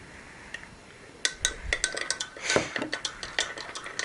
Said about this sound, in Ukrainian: Все добре розмішую.